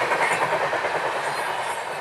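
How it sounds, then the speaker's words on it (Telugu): A loud, steady rumble of the Janmabhoomi Express, Visakhapatnam to Lingampalli, passing at full speed with rhythmic clatter of wheels on the rails, close at hand. "ఇది మంచి స్పీడ్కి కొడుతుందండి ట్రైన్"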